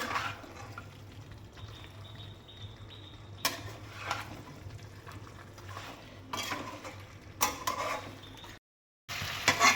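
Mutton curry with spices stirred in a pot, a soft scraping and clinking of the spoon against the pot, steady and close, with a low background hum and no talk.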